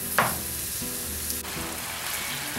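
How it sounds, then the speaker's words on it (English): Lean ground beef sizzles steadily in a preheated pan, a close, continuous frying hiss with a brief scrape near the start and no talking. "So we're just going to fry this until it's just a nice light brown."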